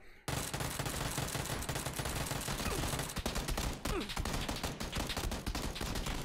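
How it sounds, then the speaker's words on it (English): Uzi submachine gun fire in the video game PUBG rattles on in a dense, nearly continuous burst of rapid shots, loud and close, with a voice faintly underneath. "I was missing like crazy with that Uzi"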